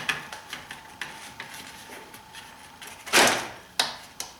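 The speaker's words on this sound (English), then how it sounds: "push this way towards the back of the door to unclip it, because this is just pressure fit" Plastic trim clips popping loose as a BMW E46 door panel is pried off, a series of small faint ticks followed by one louder sharp snap and a couple of quick clicks.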